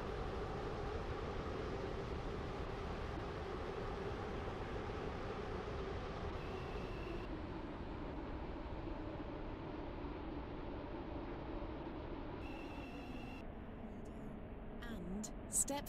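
A Class 707 commuter train in a video game runs with a steady, quiet rail rumble and hiss, punctuated by brief beeps and a faint announcement tone near the end.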